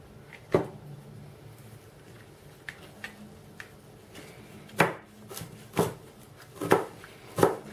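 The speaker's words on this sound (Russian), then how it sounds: "Ну, а теперь попробуем порубить зелень." A Masahiro Sankei 20 cm kitchen slicer knife chops herbs on a board, giving sparse, crisp knocks that fall into a quicker, regular run of sharp chops near the end, heard close and alone.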